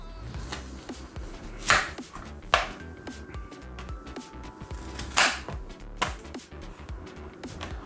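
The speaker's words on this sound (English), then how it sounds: "I'll just slice it." Knife slicing scotch bonnet peppers and onions for Nigerian fried ata dindin pepper sauce, a few sharp scattered cuts on a board amid quiet kitchen background noise.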